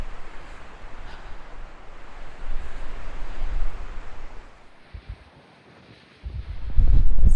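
Strong, cold wind buffets the microphone on an open desert stretch along Route 66, heavy rushing gusts that ease and drop nearly silent for a moment before surging loud again.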